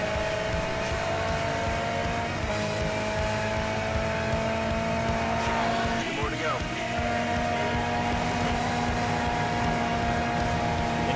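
Engine drone in Grid 2 runs continuously as a car drifts through corners, tires squealing briefly partway through over a steady roaring motor and game music.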